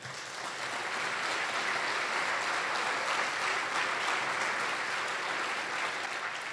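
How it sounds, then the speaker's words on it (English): A crowd at the PMAHCC Gala 2015 claps in a steady round of applause, dense and sustained throughout, moderately distant and even in level. "I would like to get a round of applause to them."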